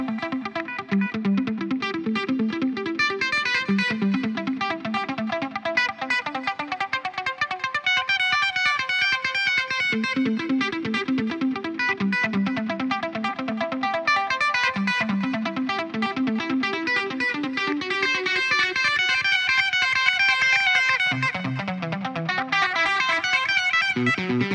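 A Parker 6 string custom electric guitar played through distortion and chorus effects rings out in long, sustained lines. The chords and melodic phrases are loud and continuous, with no voices.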